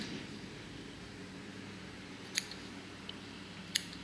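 Two crisp scissor snips, about a second apart, cut through a quiet, steady background hiss; each is short, sharp and fairly close.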